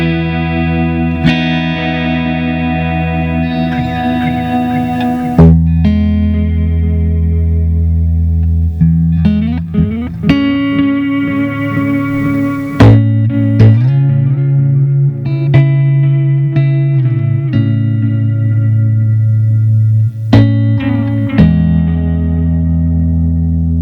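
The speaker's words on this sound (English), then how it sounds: "I've got it set on the analog delay setting, the D-bucket delay setting, set sort of like Deluxe Memory Man tap tempo might sound like" A PRS hollowbody electric guitar with piezo pickup, run through an analog bucket-brigade delay set like a Deluxe Memory Man, plays loud ringing chords and single notes, each trailed by echo repeats, with no talking.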